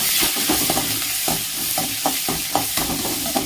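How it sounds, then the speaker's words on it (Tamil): Chana dal sautéing in a pan with onion, dried red chilli and curry leaves, a steady close sizzle and fry hiss broken by repeated stirring scrapes, with no voices. "கடலைப்பருப்பு போட்டு நல்லா வதக்கிட்டிங்க. வதக்கினதுக்கப்புறம் வெங்காயம், வரமிளகா, கருவேப்பிலை போட்டுக்குங்க."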